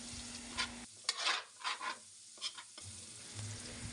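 Onion and ginger sauté in a pan, a steady sizzle broken by a spell of scraping, stirring strokes before the frying hiss resumes close and clear.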